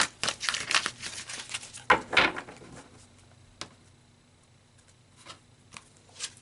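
Tarot cards are shuffled close by in quick papery riffling bursts, with a couple of louder flurries early on, then a quieter stretch broken by a few soft shuffles.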